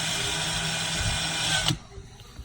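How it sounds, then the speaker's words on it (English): Power drill on its high setting spins a foam buster tool for breaking in tires, whining steadily and loudly for about a second and a half before cutting off abruptly. "Put her on the high setting on your drill."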